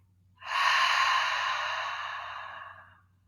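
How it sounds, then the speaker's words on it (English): A single slow, breathy exhale out through the mouth during a chair yoga breathing exercise, rising quickly and tapering off over about three seconds, close and fairly loud with a faint low hum underneath. "Open the mouth and exhale out."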